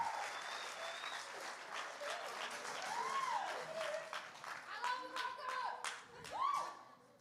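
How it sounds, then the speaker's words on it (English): Crowd at a church testimony event applauding the Baucoms, steady dense clapping throughout with cheers and whoops rising above it and some voices mixed in. "I want y'all to give a biggest round of applause for the Baucoms as they come on up"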